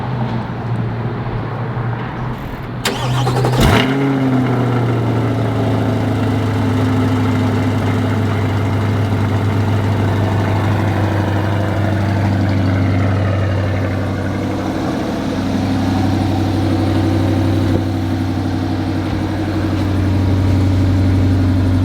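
A 2020 Chevrolet Corvette C8 Stingray engine, remote started, cranks and catches with a sharp burst, then settles into a deep, steady rumbling idle that carries on loud and close.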